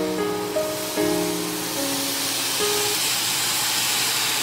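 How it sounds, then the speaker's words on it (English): Loud steady hissing of beef sizzling in a hot stir-fry pan, a broad spitting hiss with a few brief tonal squeals over it. "You hear that sizzle, ladies and gentlemen?"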